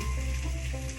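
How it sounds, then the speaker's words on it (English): Potatoes and meat sizzle steadily in a hot pan while being stirred, a continuous loud frying hiss with soft scraping, heard alone without voices. "I'm gonna keep stirring my potatoes and my meat."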